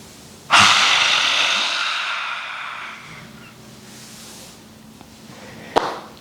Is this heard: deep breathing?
yes